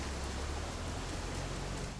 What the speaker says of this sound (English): Is that the rain I hear?